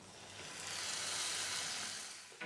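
Tomato paste sizzling in a pan with spices, a steady close frying hiss that swells and eases, with a brief stir near the end.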